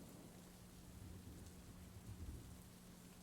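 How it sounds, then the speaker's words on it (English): Steady thunderstorm ambience with continuous rain hiss and low rumbling thunder swelling in the middle, heard alone at moderate level. "Thunderstorm."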